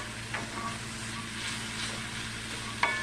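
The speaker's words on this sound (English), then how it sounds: "And continue sauteing that, and that's on medium." Vegetables with a pinch of black pepper sautéing over medium heat for homemade fried rice, a soft even sizzle with faint occasional spatula taps and a sharper clink near the end.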